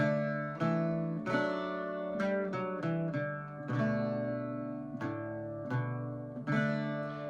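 Solo Irish bouzouki picks out a melody line with a varied ending over ringing drone strings, clear close plucks arriving in short runs and pauses, each note sustaining and fading, with no voices.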